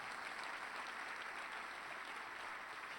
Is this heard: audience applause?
yes